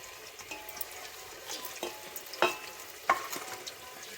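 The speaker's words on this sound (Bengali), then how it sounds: "একটু সর্ষের তেল দিয়ে দিলাম এখানে পেঁয়াজ দিয়ে দিলাম" Onion hits hot mustard oil in a pan for a rooster curry, giving a soft, quiet sizzle with a few sharp clinks and scrapes of a spoon.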